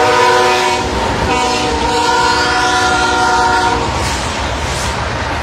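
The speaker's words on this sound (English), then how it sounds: "Come on, train. Look at it going slow, man. The train been blowing." A slow freight train rolls past close by, its multi-tone horn blaring loudly for several seconds over the steady rumble and clatter of the wagons, then the horn stops and the rolling noise continues.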